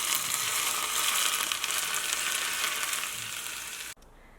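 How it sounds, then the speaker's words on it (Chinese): Hot oil poured over minced garlic, small red chilies, chopped scallions and raw sesame seeds in a bowl sets off a loud, dense, crackling sizzle that fades gradually before cutting off abruptly near the end. "再给它浇上热油"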